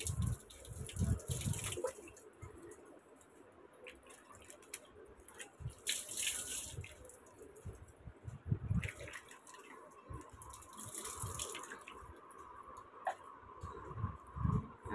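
Water runs and splashes irregularly as long, previously oiled hair is wetted for washing, with soft drips and pours rising and falling close by in a quiet bathroom.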